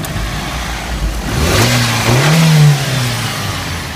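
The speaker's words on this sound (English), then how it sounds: "Here, I'll kind of rev her up here so I can..." A 1996 Mitsubishi Lancer Evolution IV GSR with a stock blow-off valve idles close by, then its engine is revved in a single rising burst that peaks and falls back toward idle.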